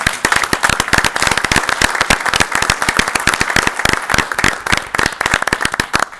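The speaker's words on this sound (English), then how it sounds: "let's applaud really loudly for Ann." Loud, dense applause from an audience at a village board of trustees meeting, many hands clapping sharply and steadily throughout without letting up.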